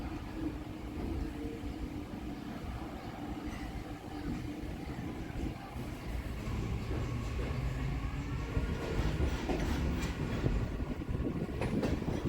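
A Kolkata Circular Railway local train rumbles steadily along the rails beside the Ganges, with a continuous rolling roar and faint rhythmic clatter growing slightly louder.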